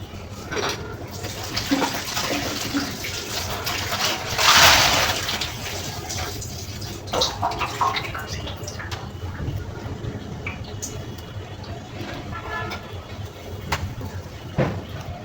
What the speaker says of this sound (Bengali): এবার এটাকে ধুয়ে নেব